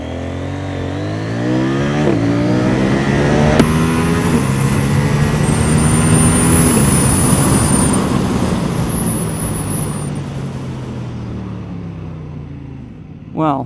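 CFMoto 800NK motorcycle accelerating hard from a standstill to 100, its engine note rising loudly through several gear changes with a high-pitched whine building, close and strong, before easing off at the end.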